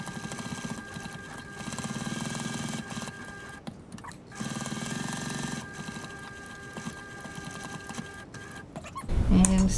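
A sewing machine stitches a seam out to the outer edge of a sling bag, running in two steady whirring stretches with a brief stop between them, close and moderately loud.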